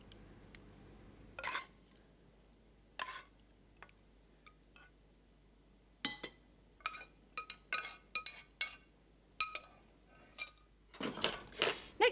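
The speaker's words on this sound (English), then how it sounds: "Just spoon the sauce over." A spoon clinks and taps against a dish and pan while bolognese sauce is spooned over spaghetti, producing scattered sharp metallic chinks, sparse at first, then more frequent and clustered toward the end, close and quiet.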